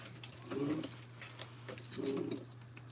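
Sewing machine running two short bursts of gathering stitches, a low motor hum with quick rattling needle strokes, fairly close over a steady background drone.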